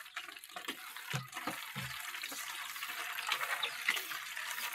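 Tap water running into a gallon container, a continuous splashing hiss with a few louder gurgling bursts early on, fairly close and moderate in level, with no talking.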